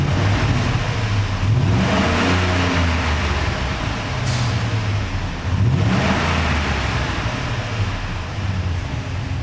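A 2011 Ford F-150 SVT Raptor pickup's engine running loud and close, with a low rumbling drone and two clear rises in revs partway through.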